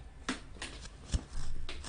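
Tarot cards are shuffled by hand in short riffling bursts, soft and close, with a longer continuous shuffle near the end.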